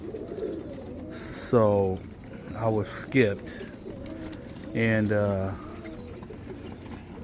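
Roller pigeons in a loft give a few low, throaty coos in short bursts. Someone talks over the start and between them.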